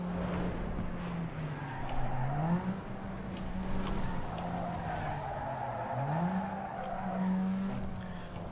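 A car powersliding in Need for Speed Underground 2, its tires skidding with a steady squeal over a continuous engine drone, the skid pitch bending upward twice during the slide.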